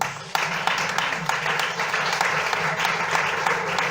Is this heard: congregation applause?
yes